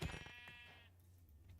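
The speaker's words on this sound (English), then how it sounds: "Sheep." A Minecraft sheep gives a single short, wavering bleat, quiet and clear, fading out within about a second.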